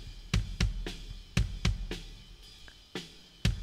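Two layered kick drum samples from a live mix, one with a rocky attack punch and one with more midrange, thump in an uneven pattern of close, sharp hits with no talking.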